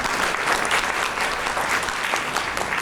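An audience at a Diwali event claps steadily after a poem recital, dense continuous applause filling the space without a break.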